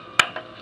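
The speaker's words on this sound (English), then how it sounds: "Little clicking sound you hear is obviously when you would change" A single sharp click sounds on a 1950s Fuller Brush salesman training phonograph record, marking a filmstrip change, with a fainter second tick just after it over low surface noise.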